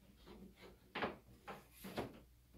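A drop-down door on a snake enclosure being raised and shut gives faint wooden knocks and thuds, a few soft clunks spaced about half a second apart, quiet and close.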